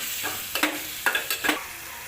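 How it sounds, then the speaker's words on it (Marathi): Turmeric and garam masala frying in a pan for a village-style egg curry, three or four close spoon scrapes across the pan over a continuous soft sizzle. "गरम मसाला हे चांगलं परतून घेऊया"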